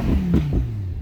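Audi R8 V10 Spyder exhaust in dynamic mode, a loud, close rumbling engine note with a couple of quick rises in pitch over about a second.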